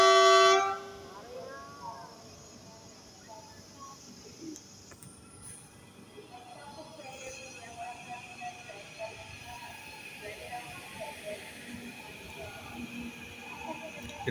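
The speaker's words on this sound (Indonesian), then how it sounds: "sambil kita dengerin suara ini klaksonnya" A loud train horn blasts at the start and cuts off, followed by the rumble and clatter of a passing train while a person talks, near a new CRRC Qingdao Sifang commuter train.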